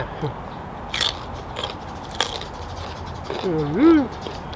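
Crunchy bites and chewing on a spicy salmon salad with chili dipping sauce come in a few close, sharp bursts, with a brief voice sliding up and down near the end.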